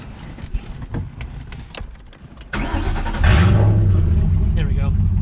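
A 2004 Ford Mustang engine cranks with a few clicks and rattles, then catches and fires up loudly at close range, settling into a steady rumbling idle.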